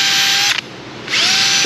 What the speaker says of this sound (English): Let's polish off some of this rust right here. Got a little abrasive bit.